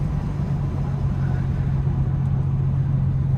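A single-turbo race car engine drones in a steady, loud, low rumble throughout, a continuous hum heard from inside the cabin with no pauses.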